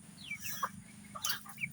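A pet farm rooster, the lone father of the household's chickens, gives short clucks and calls at close range, a few separate bursts over a low background hum.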